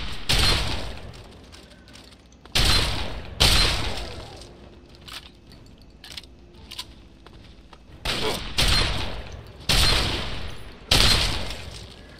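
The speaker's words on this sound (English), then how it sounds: "one of them has a minigun" Heavy gunfire in Fallout 3, several loud sustained bursts roughly a second long, separated by quieter gaps with faint background noise and occasional talk.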